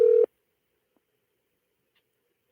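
A telephone keypad tone sounds once, a short clear beep at the start of dialing into the show, followed by near silence.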